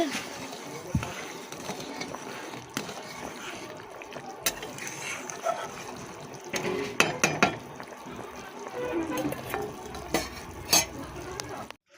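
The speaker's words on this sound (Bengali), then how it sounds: "মাছের ঝোল ফুটছে" A thin fish curry boiling in a pot gives off a continuous soft bubbling and crackling, close by, with scattered sharper clicks and a voice now and then.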